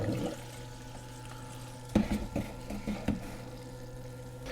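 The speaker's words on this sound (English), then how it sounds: "first I'll turn on the pumps and make sure everything's circulating well" Pumps push water around the buckets of a homemade beer cooler, giving a steady low hum with a gentle trickle and a few louder splashy gurgles partway through.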